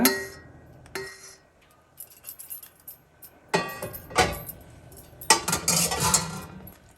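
A spoon works Pillayarpatti modak dough in a metal pan on a low-heat stove, with irregular scraping and clanking bursts of metal on metal, some sharp clinks and busy stretches of stirring, close up.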